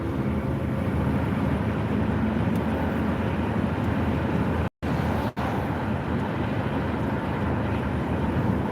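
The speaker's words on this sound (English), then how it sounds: "so you might hear a few cars" Steady traffic noise heard through an open window, a continuous broadband rumble of passing cars with a brief dropout midway.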